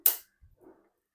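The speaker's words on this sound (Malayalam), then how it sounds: "ഇനി നമുക്ക് മുട്ട, 2 മുട്ട കേട്ടാ. ഇങ്ങനെ ബൂമ്പാൻ പൊട്ടിക്കണ പോലെ പൊട്ടിക്കട്ടെ." A sharp crack as an egg is broken against a bowl rim while making bread pudding, one quick clinking hit followed by two faint soft taps, isolated in a quiet kitchen.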